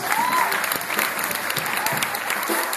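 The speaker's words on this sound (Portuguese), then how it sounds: "Uma salva de palmas para Jesus." A church congress congregation applauds for Jesus, with a short burst of loud, dense clapping and crowd noise lasting under three seconds, with faint voices mixed in.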